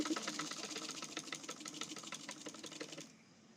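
Sewing machine running steadily while stitching the neckline of a kaftan, a fast even chatter of needle strokes that stops abruptly near the end, with no talk.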